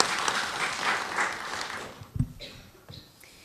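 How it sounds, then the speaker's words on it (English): An audience applauds for an award speaker being welcomed to the stage, a steady burst of clapping that fades after about two seconds, leaving a few scattered thumps and faint room noise. "Big round of applause for this young lady"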